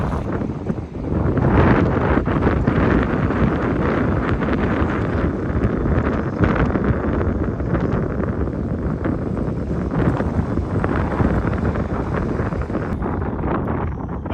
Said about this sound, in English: Maybe the wind will die.